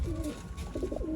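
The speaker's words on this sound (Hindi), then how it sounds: "सियालकोटी कबूतर है।" A Sialkoti pigeon gives a short, soft, close coo, a brief rolling call repeated a couple of times in quiet surroundings.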